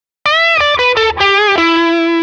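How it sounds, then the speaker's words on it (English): Sustained electric guitar lead on the bridge pickup with a high-gain distorted tone, volume and tone pots fully up, playing a short melodic phrase of several held notes ending on a long ringing note, loud and alone. "as I've been looking for that fairly standard high gain lead sound like this."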